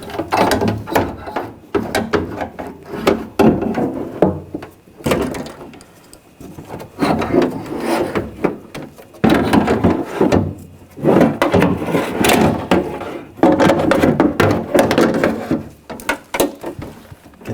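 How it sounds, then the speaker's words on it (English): A window regulator slides into the front door of a 2000-2006 BMW X5 during a window motor replacement, giving bursts of close, hard scraping, knocking and rattling metal-on-panel handling separated by brief pauses. "Now slide the regulator in."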